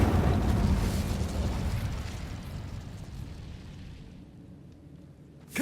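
Incendio fire spell cast in Hogwarts Legacy, a loud roaring burst of flame that slowly dies away over several seconds, with a sharp new pop at the very end.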